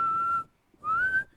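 A person whistles two clear tones, the first held steady, then after a short pause a second gliding slightly upward, close and alone.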